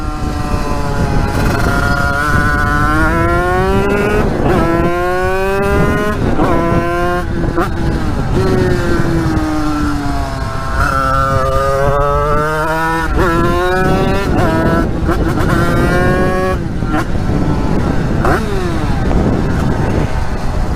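An 80cc two-stroke dirt bike engine riding along roads, a loud buzzing whine that rises and falls through gear changes and throttle sweeps, close and continuous for the whole stretch.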